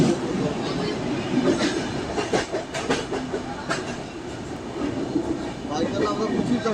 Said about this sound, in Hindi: और ये ट्रेन की क्रॉसिंग